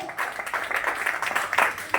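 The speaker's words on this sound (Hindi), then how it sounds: "एक बार जबरदस्त तालियां मिस्टर जगदीश भैया जी के लिए" An audience at a business plan presentation applauding, a steady busy patter of many hands clapping with some voices mixed in.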